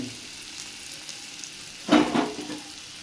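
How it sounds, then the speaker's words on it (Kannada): Fish frying in oil over a low flame, a soft continuous sizzle with a brief louder crackling burst near the middle. "ಲೋ ಫ್ಲೇಮಲ್ಲಿ ಇದು ಬೇಯಲಿ, ಒಳ್ಳೆ ಚೆನ್ನಾಗಿ ಆಯಿಲಲ್ಲಿ ಫ್ರೈ ಆಗಲಿ"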